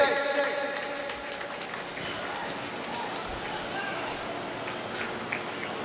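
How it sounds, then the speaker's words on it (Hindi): Audience at a company annual function clapping in a sustained burst of applause, strongest at the start and then settling into steady clapping, with a voice over a speaker system briefly at the outset. "जोरदार तालियां इनके लिए।"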